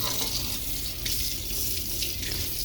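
Tap water runs steadily into a sink to rinse a scratched dinner plate in a hotel room, a close, continuous splashing flow with slight shifts as the plate moves under the stream.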